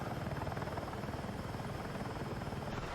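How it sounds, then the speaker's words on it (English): A helicopter flies in the distance in the video game Battlefield 6, a steady rhythmic rotor chop and buzzing thrum that holds at an even, moderate level with no talking. "there is another helicopter off in the distance"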